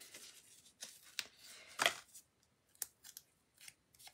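Scissors cutting paper for a handmade card: a handful of short, close snips with one sharper crunchy cut near the middle, quiet and without talk.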